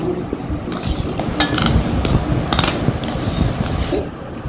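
Spoon clinks and scrapes against a bowl as salt is mixed into palm-fruit cupcake batter, a steady run of close clatter with light stirring throughout.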